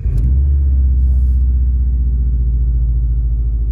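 A car fitted with a Turbosmart internal wastegate cranks and catches with a brief burst, then settles into a loud, steady, low idle rumble close by.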